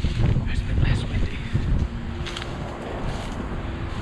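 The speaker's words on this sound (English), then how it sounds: "it's quite windy and noisy" Strong wind buffets the microphone outdoors near an airport, a rough low roar that surges loudly at first and then eases to a steadier, softer rush.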